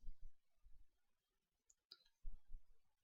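A computer mouse clicks a few times, crisp and close, with faint breaths and small desk noises between the clicks in an otherwise quiet room.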